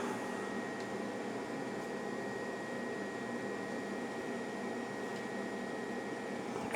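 A steady, even whir from an xTool Wonderpress craft oven running continuously, with a constant fan-like hum and a thin high tone throughout, no voices.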